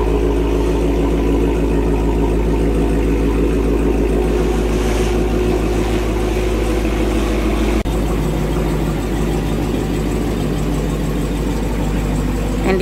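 A loud, rumbly new car engine idles nearby, a deep throbbing rumble that holds steady throughout with slight shifts in tone.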